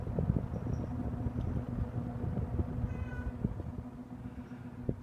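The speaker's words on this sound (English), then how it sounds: "the motor makes this whining noise" A 1974 Toastmaster (McGraw Edison) Model 5373 20-inch box fan with a three-wing metal blade runs on its slow setting, its motor giving a steady low hum with a faint whine over soft airflow rumble, quiet and continuous.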